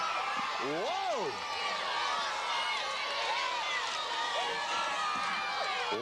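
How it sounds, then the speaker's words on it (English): A wrestling arena crowd cheers for Tito Santana in a steady, dense roar of shouts and whistles that holds throughout at a moderate distance. "this crowd erupting here with the presence of Tito Santana"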